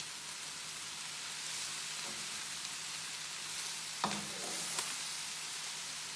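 Stir fry sizzles steadily in a hot pan, a soft even hiss with a couple of light utensil clinks near the end.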